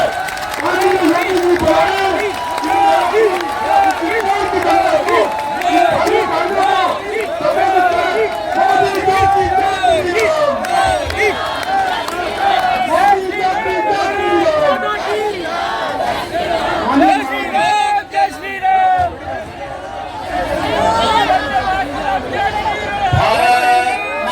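A large crowd at a public rally in Chittorgarh roars and claps continuously, with shouting and chanting voices layered into a dense, loud wall of sound.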